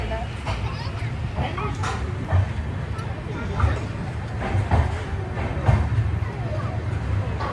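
A passenger train near Kanyakumari starting and running on rails: a steady low rumble with rhythmic wheel clacks and rattles, heard from inside, with faint voices in the background.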